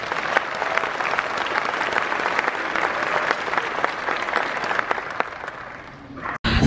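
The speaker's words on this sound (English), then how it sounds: "Let's give yourselves a round of applause." A crowd of family members applauds at a Marine Corps recruit graduation at MCRD San Diego, steady loud clapping with scattered cheers that fades slightly before a sharp break at the end.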